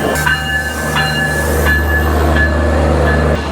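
Kolkata–Dhaka Maitree Express at Bangabandhu Bridge East station, a loud close train rumble with steady tonal hum, squealing wheel tones and a few sharp rhythmic clanks as cars pass, without any talk.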